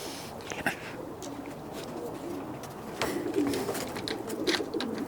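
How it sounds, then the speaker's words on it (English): Many racing pigeons cooing together inside a loft in a low, soft murmur, continuous and layered, with occasional rustles and light knocks nearby. "Now you hear them all cooing in there, and they're all happy."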